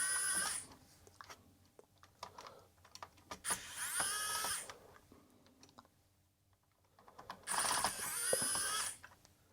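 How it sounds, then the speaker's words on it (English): Screws are backed out of an Amiga 600 keyboard with a small whirring power screwdriver in three short, quiet runs, with faint clicks and handling noises in between. "Just remove all these screws."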